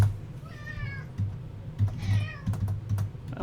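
A cat meows twice, short wavering cries a second apart, close by indoors amid the clatter of computer keyboard typing and a low steady hum.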